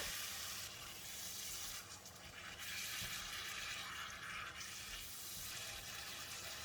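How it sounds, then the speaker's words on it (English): A continuous hiss of 50 ml of water pouring into a hot pan of long beans, steady and fairly quiet, with a faint sizzle beneath and no voices. "Add in 50 ml of water."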